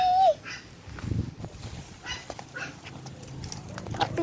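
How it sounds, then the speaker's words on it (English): Puppies scuffle and play-fight nearby, with low growls, yips and rustling in uneven bursts, and a brief squeak at the start. "Puppy's fighting"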